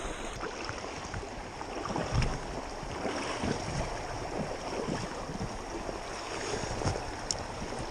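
A stream flows past rocks and a small eddy, a steady broadband rush of water with small splashes and gurgles, continuous and fairly close, with no voices.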